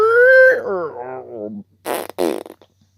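A fart: a tonal, voice-like sound comes first, then two short, raspy, loud broadband bursts close together, with near silence between them and after.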